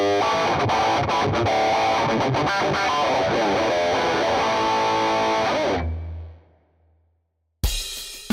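Heavily distorted electric guitar through a BIXONIC Axentrix A1 pedal plays loud, gritty chords and riffs for several seconds, then cuts off into near silence before a brief loud burst returns.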